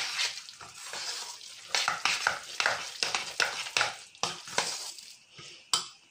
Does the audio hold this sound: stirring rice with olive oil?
yes